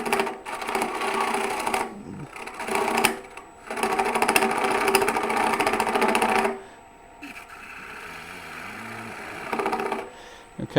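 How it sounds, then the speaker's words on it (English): A woodturning gouge cuts into a spinning wooden bowl on a lathe, making a sustained, loud rough scraping hiss in several long passes with brief pauses between them. "Letting the bevel touch first and then bring it in and cut."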